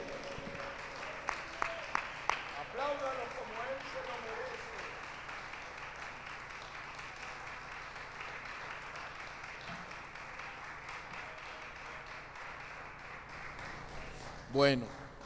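A church congregation applauds, with a few sharp isolated claps at first and then a long, soft, steady patter of clapping under faint speech, ending with one louder burst near the end.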